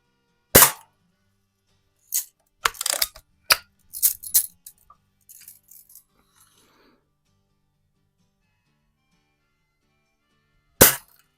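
A Crosman Hunter BB gun fires at a can: a sharp crack, then a scatter of snaps and clinks, a few fainter rattles, a long quiet stretch, and one more sharp shot at the end.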